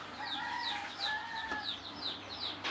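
Chicks in a poultry incubator at an avian training and production centre cheep in a steady series of high, rapid peeps, several overlapping calls repeating about twice per second at a modest, close level.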